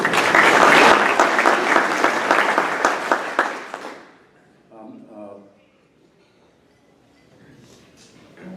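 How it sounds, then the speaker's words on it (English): A conference audience applauds Bill McCrary: a dense, loud wash of many clapping hands fills the room for about four seconds, then quickly fades to near silence with faint voices afterward. "I think you ought to give him a round of applause just for that."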